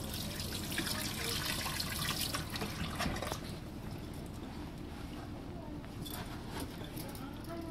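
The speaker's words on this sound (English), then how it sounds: "this is just pouring it under a full-on tap." Water gushing from a fully opened tap onto waterproof boots, a steady close splashing and pattering stream that continues throughout, with a person's voice speaking over it.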